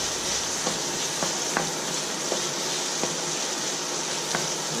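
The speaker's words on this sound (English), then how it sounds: "just while we're sauteing the veggies, toast them up a bit" Vegetables sauté with fennel seeds in a pan, making a steady, close sizzle broken by light periodic taps and scrapes of stirring, with no one speaking.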